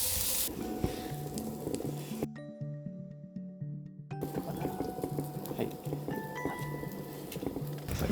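Vegetables stir-frying with a spice stock in a hot pan, giving a steady sizzle with faint scraping and stirring. Background music runs underneath, and the sizzle briefly drops out partway through.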